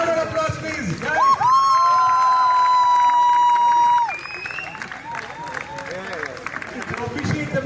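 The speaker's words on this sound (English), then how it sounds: "A louder applause, please, guys." An audience at a college alumni jubilee meet breaks into loud, sustained applause and cheering, with a long whistle-like tone riding over the crowd early on before the clapping settles into a steady roar.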